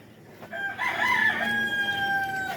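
A rooster on a poultry farm crows once, loud and close, in a single drawn-out call rising then holding before fading, over quiet farm background.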